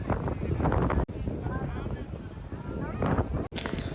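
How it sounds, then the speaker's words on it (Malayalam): Strong wind on a beach at Tiruchendur, blowing sand about, roars and buffets a microphone continuously, with a person talking under the gusts. "ഇവിടെ ഇപ്പോൾ നല്ല കാറ്റാണ് മണൽക്കാറ്റ് പോലെയാണ്"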